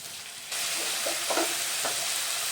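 Spice paste of chilli, cumin, coriander and turmeric powder hitting a hot pan and frying with a splash of water, bursting into a loud, steady sizzle after a short quieter lead-in, with faint stirring scrapes underneath.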